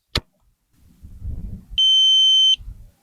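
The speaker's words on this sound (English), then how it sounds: "You hear it starting to beep." A tool gives a single steady electronic beep lasting under a second as a cable connector is tightened on a 12-volt solar shed setup, preceded by a sharp click and soft handling noise.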